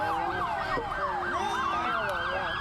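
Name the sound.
ambulance siren passing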